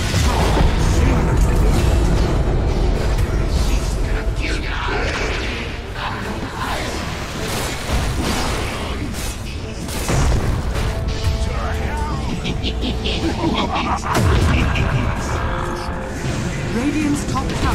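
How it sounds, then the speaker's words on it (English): A Dota 2 match with a tower under attack, dense booms and explosive crashes layered over game music and effects, loud and continuous, with an announcer voice over the action. "Radiant's top tower is under attack."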